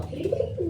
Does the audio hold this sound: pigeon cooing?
yes